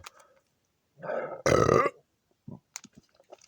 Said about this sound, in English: I think I got another burp lined up.